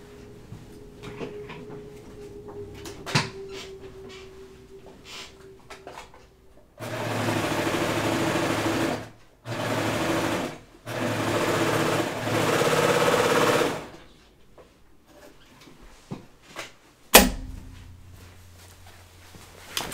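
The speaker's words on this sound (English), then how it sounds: "I'm gonna go run that through the serger best I can." A serger overlocks the seams of a pair of Ginger jeans in steady whirring bursts, first one long run and then shorter stretches, loud and close, with quieter handling noises before and after.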